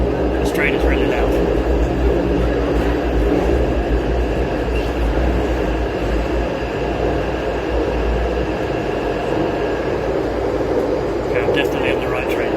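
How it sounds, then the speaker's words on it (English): Loud, steady rumble of a Taipei MRT train heard from inside a moving carriage, with continuous low roar and rail noise throughout and brief faint voices near the start and end. "This train is really loud."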